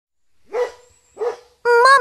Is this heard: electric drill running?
no